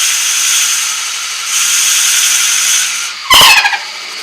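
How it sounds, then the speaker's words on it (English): A 50mm Forstner bit bores slowly into wood turning on a lathe, giving a steady high cutting whine that swells midway before a brief louder squealing burst near the end. "hold the Jacob's chuck, and slowly advance the Forstner bit"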